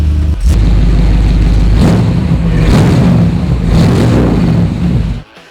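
A 1962 Chevrolet Impala SS cranks and fires up, its engine catching with a loud, close rumble and a few revs before cutting off abruptly at the end.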